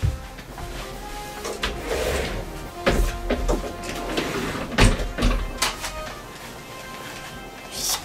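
A closet door where clothes hang is handled and shut, giving several wooden knocks and a sharper clunk partway through, heard close in a room with light rustling and faint voices in the background.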